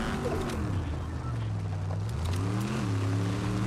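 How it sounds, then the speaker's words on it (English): A vehicle in Fortnite drives with a steady engine drone that rises and falls in pitch as it speeds up, close and continuous, with nobody talking. "I'm just gonna roll up the vehicle at this point."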